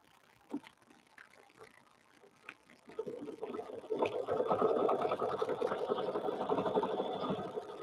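A sewing machine stitches the outline of a bow onto a sweatshirt, with sparse clicks for the first few seconds and then a steady, fairly loud mechanical whir of running stitches.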